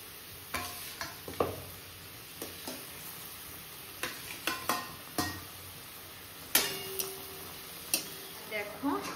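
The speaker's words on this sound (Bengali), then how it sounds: "এবার মাছগুলোকে দিয়ে দেবো এক এক করে।" Pabda fish pieces go one by one into a pan with a little water, giving a faint low sizzle under a scatter of sharp clicks and taps from the utensil against the pan.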